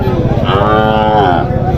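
A heifer at the Madrapalli cattle market lets out one long, loud, close moo that swells and fades over a low background murmur of the market crowd.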